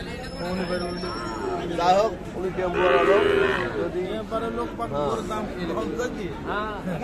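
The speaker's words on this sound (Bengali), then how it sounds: "এই যে এই শাহিওয়াল বাছুর" A Sahiwal calf at a busy cattle market moos loudly near the middle, with lower calls around it while people talk close by over a crowd murmur.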